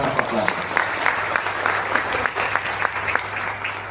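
Audience applause at a stage event, a steady wash of clapping with a low hum underneath and a voice talking over it throughout.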